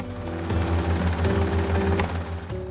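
An air ambulance helicopter taking off gives a steady, fairly loud engine drone with a low, pulsing rotor hum that shifts slightly in pitch, heard alone without talking.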